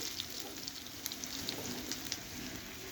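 Dheki shak greens sizzle and fry steadily in a pan of browned onions with slit green chillies, a continuous close crackle with small pops scattered throughout.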